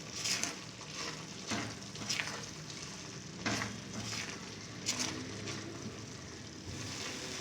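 Egg and milk halwa with almonds and pistachios cooking and being stirred in a pan, a steady soft sizzle broken by several sharp scraping stirs at irregular intervals, close and without talk.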